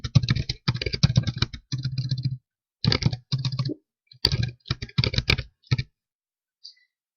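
Close-up typing on a computer keyboard, quick bursts of clacking keystrokes separated by short pauses, then a final lone key tap after a gap, with no voices.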